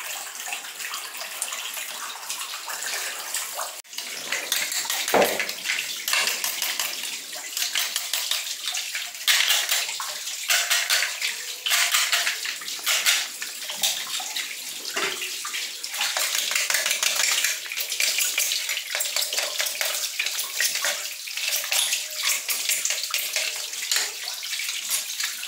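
Water gushes steadily out through the drain of a swimming pool as it is emptied to remove the pump, a loud continuous splashing rush that carries on throughout.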